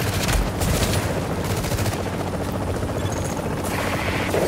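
A helicopter approaches in the video game Tom Clancy's The Division, a loud continuous rotor roar that fills the scene with dense rumbling and clatter throughout, with no talk.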